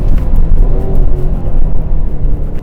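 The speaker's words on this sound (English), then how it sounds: "this is one of the best sounding V8s which are front engined and rear wheel drive at this price point" Aston Martin Vantage, a front-engined, rear-wheel-drive V8 sports car, rumbling steadily with a loud, deep, continuous engine tone and no voices over it.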